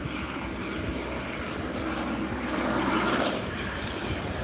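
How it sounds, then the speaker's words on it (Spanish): A helicopter drones steadily overhead during wildfire fighting, a continuous engine and rotor rumble that swells slightly louder toward the middle before easing. "Los helicópteros se van a ir ya en cualquier momento"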